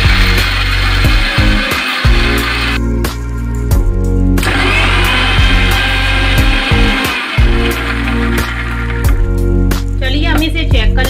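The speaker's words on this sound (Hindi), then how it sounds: "इसे हम मिक्सी जार में अच्छे से मिक्स करके" A loud mixer grinder whirs in bursts while grinding onion and garlic into paste, its motor cutting out and starting up again several times.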